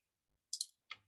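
A computer keyboard gives a few sharp, close clicks, two quick taps followed by a single one after a short pause, in an otherwise quiet room.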